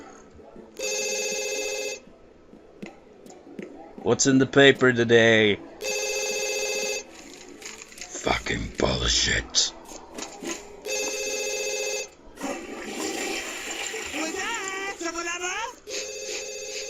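A telephone in The Sims 2 rings repeatedly in regular loud bursts, each ring separated by short gaps, while a person talks over parts of it.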